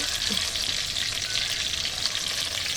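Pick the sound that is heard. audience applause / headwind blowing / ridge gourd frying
ridge gourd frying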